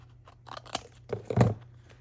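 Scissors snip part of a page off a B5 notebook in a few quick, close cuts, with crisp paper crunches around the middle of the clip and no talking.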